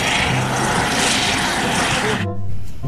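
A blue and white toy police helicopter with a spinning propeller gives a loud, steady, close whirring buzz that cuts off abruptly near the end, leaving a faint lower hum.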